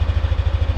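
A Yamaha NMAX V2 scooter engine idles warm after a ride, a close, steady low throb pulsing about ten times per second with a light ticking clatter, no voices over it.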